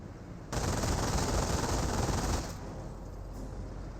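Sustained machine gun fire in the World War II strategy game Company of Heroes, a loud dense rattling burst lasting about two seconds, then quieter battle noise continuing underneath.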